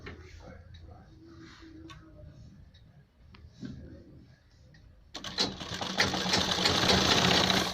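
A sewing machine stitches a sleeve onto a ladies' collared kurta, starting with a loud sustained run after a stretch of quieter sounds, with a voice speaking earlier.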